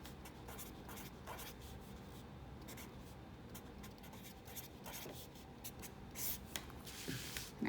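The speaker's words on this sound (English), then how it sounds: "I'm going to write it out so that they're lined up." A pen or pencil scratches across paper while numbers are written out by hand, a quiet continuous scraping with small taps and strokes, close and alone.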